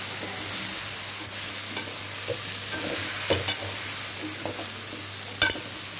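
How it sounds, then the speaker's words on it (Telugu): Chili powder masala fries in a pan with oil while a spoon stirs it. A soft, steady sizzle runs throughout, broken by occasional light scrapes and taps of the spoon. "ఇదో చూడండి ఎలా వేగుతుందో. కారం స్మెల్ పోయేదాకా వేగుతూ ఉండాలి."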